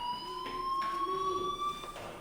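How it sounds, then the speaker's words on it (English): A fire alarm rings loud and sustained in a school building in Life is Strange, a steady electronic tone with pulsing overtones sounding alone. "Hey, do you hear that fire alarm?"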